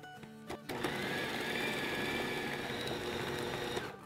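A blender grinds galouti kebab mixture, a steady loud whirring motor drone that starts abruptly after a brief pause and runs on continuously.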